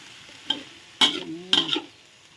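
Chicken with ginger and greens stir-fried in a pan: three quick scraping strokes of a spatula over a low sizzle, close and brief.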